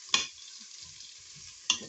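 Chorizo and onions brown quietly inside a Cookeo multicooker, giving a soft, even hiss broken by two sharp clicks of a utensil.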